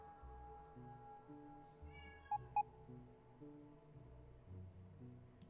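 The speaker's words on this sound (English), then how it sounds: "Meow meow, kitty." A couple of short, faint meows from a cat, brief and close, over a quiet background with low rumbling.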